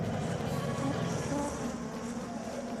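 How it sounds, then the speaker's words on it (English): Insect-like buzzing drone in a dark setting from a Saturday morning serial, a steady low hum lasting throughout at moderate level with no speech over it. "Where's the buzzing coming from?"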